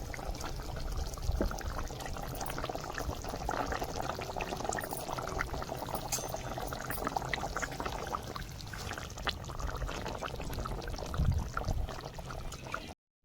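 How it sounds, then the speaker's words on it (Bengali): Hilsa fish simmering in mustard sauce with green chilies and mustard oil in a kadai, a steady soft bubbling and sizzling that runs close and continuous, with no talking. "মাছ দিয়ে দিয়েছি, এখানে 2-3 মিনিট একটু ফুটিয়ে নেবো।"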